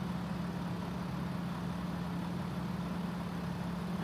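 A heavy truck engine idles steadily in American Truck Simulator, a low, even drone held at a constant pitch throughout, fairly quiet and with no talk over it.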